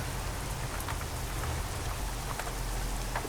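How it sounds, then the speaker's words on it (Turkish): Steady in-game rain in Euro Truck Simulator patters continuously, a dense hiss of droplets with a low rumble underneath, no voices. "Hala yağmur ya"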